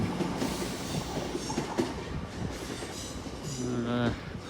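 A train passes through Exeter St Davids station on a weekday afternoon, a steady rumble with wheel clatter and a brief rising squeal near the end, heard at moderate distance.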